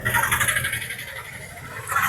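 Busy street traffic by a bus stand in the Sevvapettai wholesale market area, vehicles rumbling and passing close by, with a brief squeal and a steady noisy wash from start to finish.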